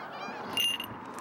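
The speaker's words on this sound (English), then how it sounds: "It seems she's been distracted by a group of seagulls." Gull-like honking calls from a group of seagulls sound near an open field during a falconry outing, a brief, fairly loud burst of overlapping cries without any talking.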